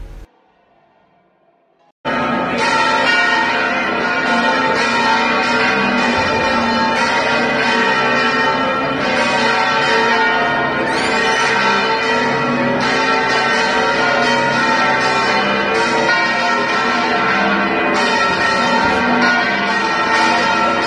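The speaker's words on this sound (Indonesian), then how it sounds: "teman-teman bisa mendengar suara bunyi lonceng yang dipasang mengelilingi menara bagian atas dari menara Giralda ini." Bells on the Giralda tower in Seville ring in a loud, continuous peal, with overlapping metallic strikes and long shimmering overtones that begin after a brief quiet moment and keep going.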